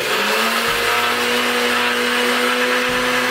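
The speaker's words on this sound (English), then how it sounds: "So I have it in my blender, just gonna give it a little whisk." A blender whirs steadily while blending oats into flour, a loud continuous motor drone with a pitch that shifts slightly as it runs throughout, with no talking.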